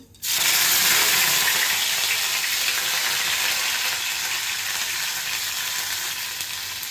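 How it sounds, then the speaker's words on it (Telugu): Mustard seeds, cumin and curry leaves drop into hot oil and burst into a loud, steady sizzle that holds for several seconds and eases off slightly toward the end, with no talking. "ఇప్పుడు కొన్ని ఆవాలు, కొన్ని జీలకర్ర, కొంచెం కరివేపాకు,"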